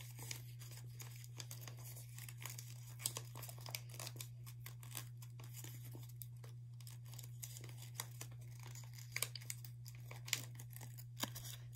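Origami paper being folded into a flower, a close run of crisp crinkles, rustles and sharp creasing snaps scattered irregularly over a steady low hum, with no talking.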